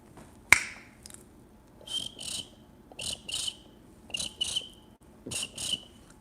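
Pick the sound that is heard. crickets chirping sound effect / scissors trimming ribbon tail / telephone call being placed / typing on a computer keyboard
crickets chirping sound effect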